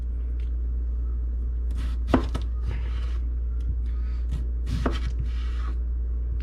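A knife cuts russet potatoes into thin French fry sticks on a board, giving a few sharp, close chopping knocks with scraping in between, over a steady low hum.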